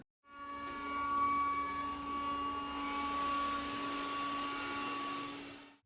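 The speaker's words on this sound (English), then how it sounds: "load them into your CNC, and start cutting." A CNC router cuts threads into wood, producing a steady, close, high-pitched whine with a constant tonal hum that rises in quickly, holds evenly for several seconds and then cuts off.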